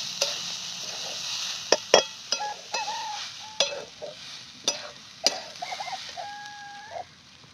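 Grated coconut roasts over a low flame in a pan for a modak filling, with sharp, irregular scrapes of stirring over a soft sizzle and faint bird calls in the background.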